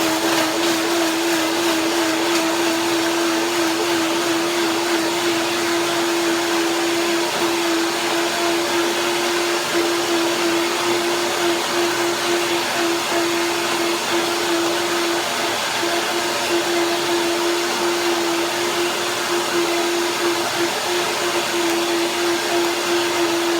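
A blender whirs steadily while blending horseradish macadamia cream with a splash of water, a constant loud motor drone with a strong steady hum running alone, unchanged, for the whole stretch.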